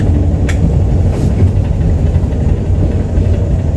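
A Toyama Chihou Railway train on the Tateyama line sits stopped at a station, its engine and equipment giving a loud, steady low rumble with no voices.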